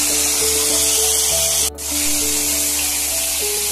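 Chicken fillet fully immersed and deep frying in hot oil for a cheese-topped fried chicken, a steady broadband sizzle running throughout with one brief dip midway, close and fairly loud, with faint steady tones and no talking.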